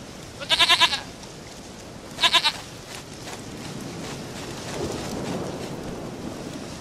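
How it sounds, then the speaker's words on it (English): Two short bursts of rapid, quavering goat bleats play from the Witcher 3 video game over steady rain and rumbling ambience. "dearest, sweetest goat."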